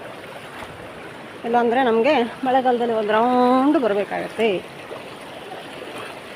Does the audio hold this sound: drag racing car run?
no